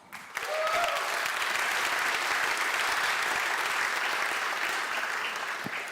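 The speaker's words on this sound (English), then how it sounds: "Applause." Sustained audience applause at the Kickstart Innovation opening ceremony, a dense crowd clapping loudly and steadily for about six seconds with no talk over it.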